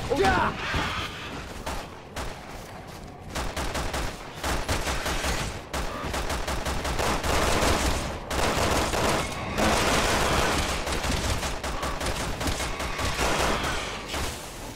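Rapid gunfire from the co-op action game Resident Evil 6, with dense bursts and volleys of shots running continuously and loudly throughout, mixed with other game effects.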